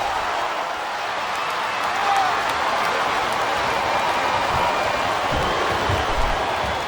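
Arena crowd noise from the WWE SmackDown vs Raw 2007 wrestling video game on PS2, a steady broadband roar of cheering and murmur that holds evenly throughout with slight swells, no clear voices on top.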